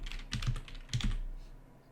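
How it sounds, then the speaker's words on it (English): Quick keystrokes on a computer keyboard, two short bursts of close, crisp clicks about half a second apart, with nothing else underneath. "basically you want to type Screen"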